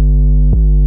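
808 bass processed with a Sausage Fattener plugin, thick and heavily saturated: a loud sustained low tone with dense harmonics, briefly punctuated by a transient midway before droning on alone.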